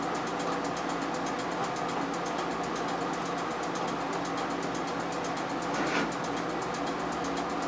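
A small carbureted engine overfilled with oil runs steadily and close by, a dense, rapid firing drone that holds an even pace throughout with no talk.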